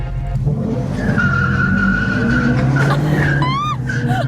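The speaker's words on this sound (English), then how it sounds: "That's an electric muscle car." An electric muscle car launches hard, with 0–60 mph in 3.3 seconds, and its tires squeal loudly in a sustained, wavering whine. Sharp rising and falling squeals come near the end over a constant road rumble.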